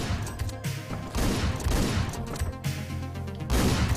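Gunshots in the top-down shooter Hotline Miami 2: Wrong Number, several sharp blasts in quick bursts over a loud driving music track.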